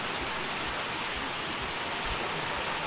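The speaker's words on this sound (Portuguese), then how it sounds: "Começou a chover aqui, pessoal." Steady rain pours down outdoors as a dense, continuous hiss of drops striking surfaces, loud and even throughout with no talking.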